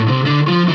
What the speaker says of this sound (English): It distorts the synth sound as well as the guitar sound.